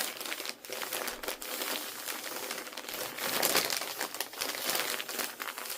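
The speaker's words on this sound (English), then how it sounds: "So, if this crinkling bothers you, just stop watching the video." Paper crinkles and rustles steadily at close range during a quiet journaling session, a dense continuous crackle with small bursts and no talking.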